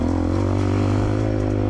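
A cheap 250cc fuel-injected dirt bike revs hard while being ridden on a muddy trail, its loud, steady engine drone close and continuous with small rises in pitch and no talk.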